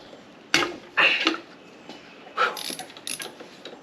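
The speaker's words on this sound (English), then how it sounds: "I actually could use a straight ratchet on this one, but got the flex ratchet." A flex ratchet turns a bolt on a Jeep 4.0 engine in a driveway, giving a few short, close clicking bursts separated by brief pauses.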